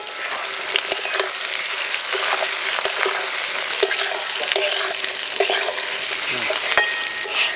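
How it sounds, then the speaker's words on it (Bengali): Spices including turmeric, salt, Kashmiri chilli powder and ginger paste fry with taro for a fish curry, crackling and sizzling steadily, with continuous close scraping of a spatula stirring the pan. "একটু নাড়াচাড়া করে ভাজা ভাজা করে নেব"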